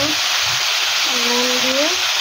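Raw jackfruit pieces seasoned with salt and turmeric fry in hot oil, giving a loud, steady, close hiss of sizzling with a faint voice tone briefly over it.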